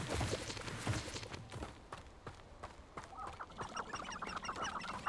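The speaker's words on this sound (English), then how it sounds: "chickens." Chickens cluck softly in the Forbidden Forest area of the video game Hogwarts Legacy, faint scattered clucks and footstep-like clicks over a low game ambience.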